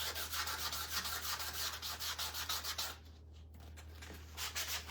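Hand sanding with 80 grit sandpaper on a craft piece for spring bunny ear wreaths, making a rhythmic, close scratchy rubbing in quick repeated strokes that pause briefly, then resume.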